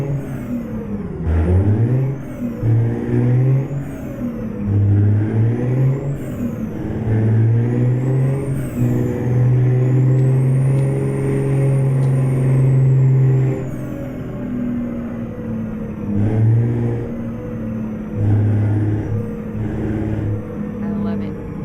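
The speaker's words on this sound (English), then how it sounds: "This truck's pretty quick. For as big as it is," A heavy truck engine in American Truck Simulator drones and revs through gear changes with occasional air-brake hisses, while someone talks over it throughout.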